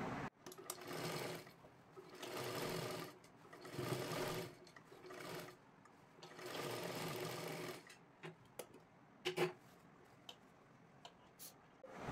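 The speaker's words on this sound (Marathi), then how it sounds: "आता एक डबल शिलाई मारून घ्यायची आहे आपल्याला" An electric sewing machine runs in bursts of steady whirring as it double-stitches the sleeve seams of a small girl's lehenga dress, pausing between runs with a few clicks and soft handling sounds.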